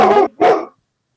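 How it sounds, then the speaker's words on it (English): A dog barks twice in quick succession nearby, loud and distinct, during an online court meeting held from a home, followed by silence. "Whose dog is that?"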